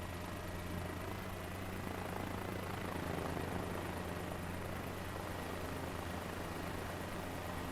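Helicopter in a flight simulator game, a steady, dense rotor and engine drone with a low rhythmic thrum, constant and fairly close throughout, with no voices.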